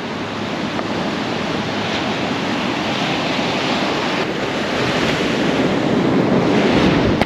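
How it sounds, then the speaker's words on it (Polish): Baltic Sea waves crash steadily onto the shore in a continuous broadband roar, with gusty wind buffeting the microphone throughout and no voices. "tak, ale fale są kosmiczne."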